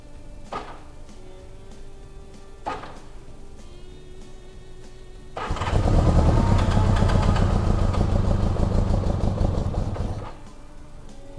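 Engine cranking after a carburetor rebuild, a few separate clanks and starter turns before it catches and runs loud and rough for about five seconds, then drops away.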